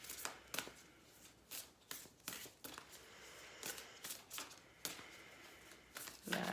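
An oracle card deck is shuffled by hand in quiet, close riffling bursts, a dozen or so brief papery flurries in a loose, uneven rhythm with no talking.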